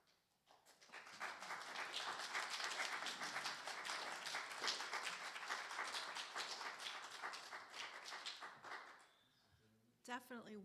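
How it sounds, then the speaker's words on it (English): Sustained applause from a church congregation at a Sunday service, steady broadband clapping lasting about eight seconds before fading, followed by a brief voice. "Definitely worthy of applause"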